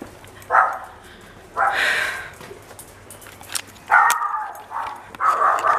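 A small dog at relatives' home in Spain barks and yips in short bursts, a few separate barks spaced out over a quiet room background, moderately close with no talk.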